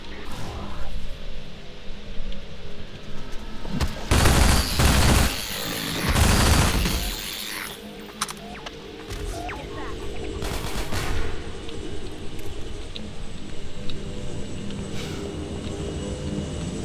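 Mounted machine gun firing in Half-Life 2: Episode One, loud rapid bursts with heavy booming impacts, two especially strong bursts in the middle, over a background of lighter scattered shots and game noise.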